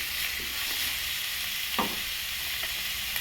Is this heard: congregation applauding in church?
no